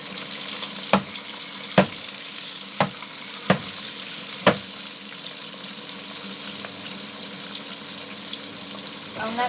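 Oil heating on a stove at medium-high heat with salt added, giving a steady close sizzle and crackle plus a handful of sharp clicks early on, with no talking.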